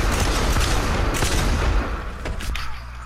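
Revolver gunshots in the shooter game Blacklight: Retribution, a burst of loud, sharp reports with booming low-end tails that fade to rumbling ambience near the end.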